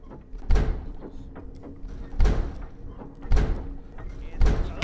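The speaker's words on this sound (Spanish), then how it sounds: "ese sonido que están escuchando son las puertas que se abren" Doors opening in a video game: four heavy thuds, spaced roughly a second apart, each with a short rumbling tail over a faint background.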